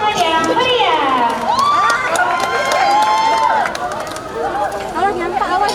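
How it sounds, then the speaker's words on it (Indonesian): Audience at a school dance practical exam for twelfth-grade students cheers and shouts loudly throughout, excited voices and whoops dominating the crowd noise, with some applause mixed in. "Beri tepuk tangan yang meriah."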